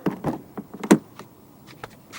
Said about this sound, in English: Then you open the door,